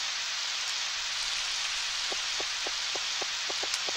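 Rain falls steadily in the Harvest Moon 64 video game, an even hiss throughout. Soft clicks recur in a regular rhythm beneath it, and a brief sharper sound comes at the end.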